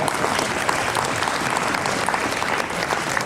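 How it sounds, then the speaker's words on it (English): An audience at an annual global infectious diseases event claps steadily for a young man. The full, even applause stays near and sustained throughout, with no voices heard over it. "Please clap for this young man."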